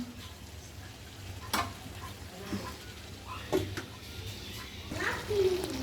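Meat for khichuri sautés in a pan in its own released water, giving a quiet, steady sizzle with occasional stirring scrapes and clatters, close by.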